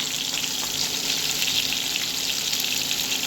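Steady, bright sizzling of hilsa fish and eggplant frying in hot oil, a continuous crackling hiss with no voices.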